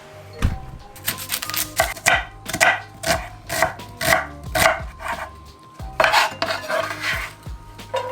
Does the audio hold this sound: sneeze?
no